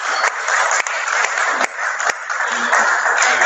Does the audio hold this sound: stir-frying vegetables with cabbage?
no